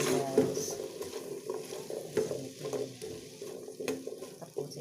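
Chopped chayote tossed into a frying pan and stirred, a steady sizzle under repeated scraping strokes of a spatula, close and moderately loud, with no talking.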